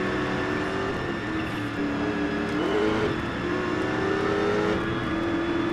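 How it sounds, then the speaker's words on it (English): Race car in the racing game GRID revving hard and climbing quickly through its first gears, engine pitch sweeping up and dropping at each shift, loud and continuous with no talk. "That means it pumps through these first two gears like nothing."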